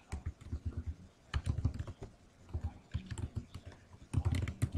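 Rapid typing on a computer keyboard while entering text into a table cell, with clustered bursts of clacking keystrokes and brief pauses between words, close and clear with no talking.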